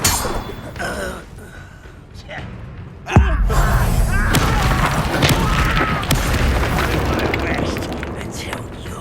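A heavy booming blast from the Confringo explosion spell in the Hogwarts Legacy video game, heard against dense game sound effects and a rumbling ambience.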